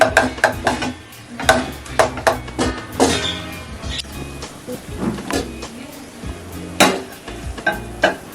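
Thick, sticky coconut Mysore pak mixture stirred in a pan, with repeated scraping and clinking strokes of the spoon against the metal at an uneven rhythm, close and fairly loud, with no talk.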